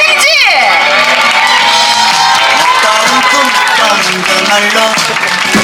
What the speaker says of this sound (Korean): 큰 박수 한번 보내주실까요?